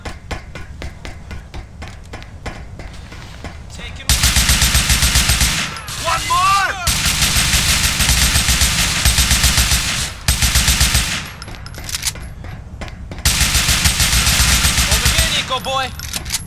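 Automatic gunfire in a Grand Theft Auto IV shootout, loud sustained bursts of rapid machine-gun fire broken by short pauses, with lighter single shots and shouted voices between volleys.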